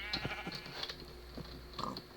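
Sheep on a video game farm give a few short, fairly faint bleats scattered over a low steady hum, with pigs nearby and no talking.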